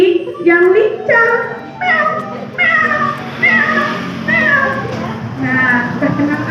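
A storyteller at a preschool teachers' storytelling contest imitates a cat with her voice, giving a string of about eight drawn-out, rising and falling meows, loud and close.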